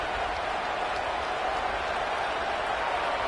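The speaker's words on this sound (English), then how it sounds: "with this place rocking, the crowd forces a false start" Stadium crowd noise at an Iron Bowl rivalry game in a college football video game, a steady, dense roar that holds at an even level throughout with no clear peaks or breaks.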